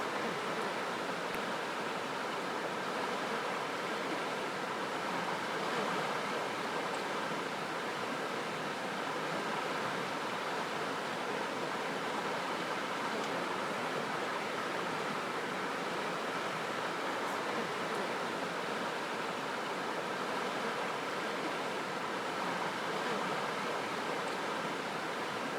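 A swift river in Khao Yai National Park rushes past in a steady, dense hiss and roar of flowing water, unbroken and even for the whole stretch.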